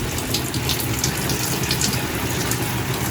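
A shower head sprays water steadily onto a potted orchid, soaking its bark medium and leaves; a continuous, loud, close hiss of running water with no talk.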